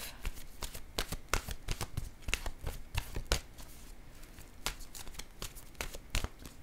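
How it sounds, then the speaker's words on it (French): Oracle cards shuffled by hand in quick, steady riffling bursts, a dense run of crisp slaps and flutters close up with no talking. "Je vais piger maintenant une carte de mon oracle de l'âme intuitive."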